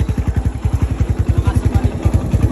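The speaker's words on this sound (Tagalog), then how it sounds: "Ay, malakas ang motor." A loud motorcycle engine revs close by with a fast, steady pulsing thud, while voices talk over it.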